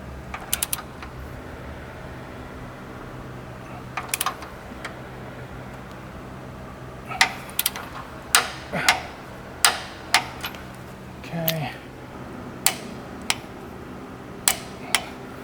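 Torque wrench tightening M14 bolts on the rear diff drop mount of a Toyota LandCruiser LC200, a scatter of sharp clicks and ratchet ticks that grow more frequent in the second half, close by over faint background.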